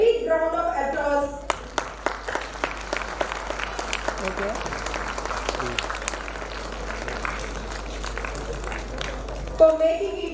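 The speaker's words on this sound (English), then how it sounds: "every single person who's been associated with Al-Karim English Medium Public School deserve a big round of applause" Audience applause at a school's annual day function, a dense burst of clapping from many hands that swells and then fades, with a voice briefly heard at the edges.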